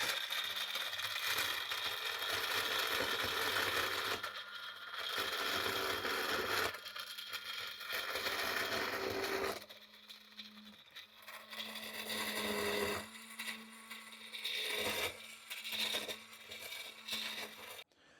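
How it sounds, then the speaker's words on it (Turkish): A blender whirs loudly in bursts, pureeing lentil soup, its motor pitch dropping and rising, with short pauses between runs. "Ondan sonra da blender robottan geçireceğim."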